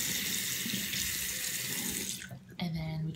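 A bathroom tap runs water onto a toothbrush in a loud, steady splashing stream that briefly dips and then gushes again.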